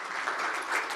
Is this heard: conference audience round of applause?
yes